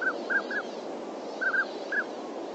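Nocturnal flight calls of a duck, recorded at night: several short, clipped calls spaced irregularly over a steady background hiss, fairly faint and distant, with no voices present.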